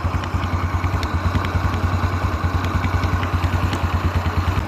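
A scooter engine idles with a fast, regular mechanical ticking running through the steady putter, close up and fairly loud, no talking.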